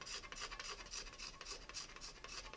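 A blade scrapes stain from the sturgeon-skin backing of a wooden bow in quick, even rasping strokes, about a dozen rhythmic passes, faint and close with no voices.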